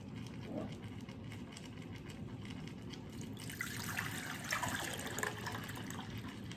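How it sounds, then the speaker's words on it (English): Water poured from a pot into a bowl in a home kitchen while making applesauce and apple scrap vinegar, a steady soft trickle that swells into a fuller, splashing pour partway through, heard up close with no talk. "So now I'm going to measure out how much water is in here by pouring it in here and then pouring it into this bowl."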